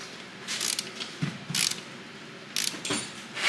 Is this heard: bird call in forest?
no